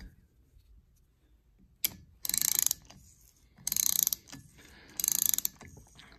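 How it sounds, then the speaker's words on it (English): A thread tap turned into the spark plug hole of a Harley-Davidson Shovelhead cylinder head, cutting metal threads: three distinct bursts of close, gritty ratcheting, separated by quiet pauses. "start turning the tap, cutting away some of the threads and the parent metal of the head"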